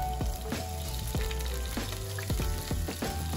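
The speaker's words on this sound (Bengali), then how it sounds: "এবার ওই তেলেই আমি দুটো এলাচ একটু দারচিনি দুটো শুকনো লঙ্কা আর একটু জিরে সাথে একটু আদাও দিয়ে দিচ্ছি ভেজে নেব মশলাগুলোকে" Cardamom, cinnamon, dry chillies, cumin and ginger fry in hot oil, giving a steady close sizzle broken by repeated sharp spatula knocks against the pan.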